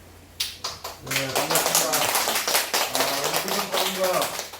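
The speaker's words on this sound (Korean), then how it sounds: "박수로 맞아주시기 바랍니다" A small audience at a church seniors' couples class claps to welcome a pastor, a burst of clapping that is partly masked by a person talking over it.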